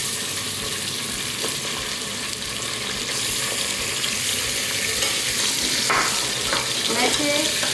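Beef pieces frying in hot oil with browned onions for restaurant-style nihari, a loud continuous close sizzle with occasional stirring scrapes, no talking.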